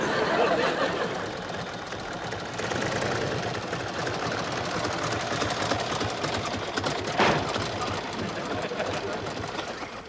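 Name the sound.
old car rattling while driving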